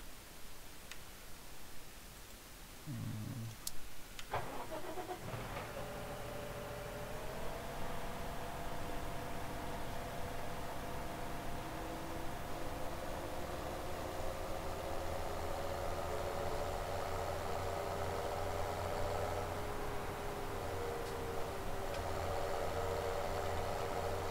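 A vehicle in Landwirtschafts-Simulator 17 starts up and drives steadily, its engine humming with a sustained tone that slowly shifts in pitch, accompanied by a constant broadband rush, with no talking.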